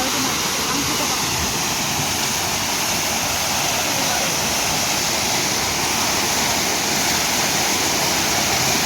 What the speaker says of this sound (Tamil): நம்ம மூணாறு வாட்டர் ஃபால். இது வந்து இப்போ கொஞ்சம் சின்ன வாட்டர் ஃபால்